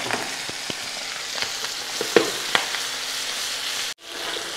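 Shrimp sizzle in a hot pan with garlic and chili, a steady close frying hiss broken by small pops and stirring clinks, ending in a sudden brief drop.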